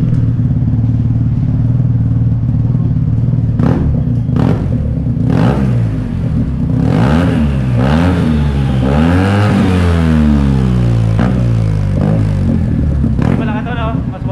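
A Yamaha TMAX scooter engine with its exhaust revs hard several times, rising and falling in loud sweeping pitch over a steady idle rumble, close by, with people talking around it.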